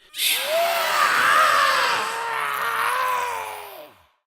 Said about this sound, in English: Suddenly, he heard a terrible screech.